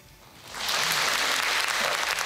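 Applause from a comedy live audience in Morinomiya after a punchline, swelling in after a quiet half second and holding steady and dense to the end.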